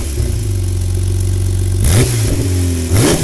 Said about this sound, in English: Intro with the exhaust revving, that was something I knew I wanted to do right off the bat.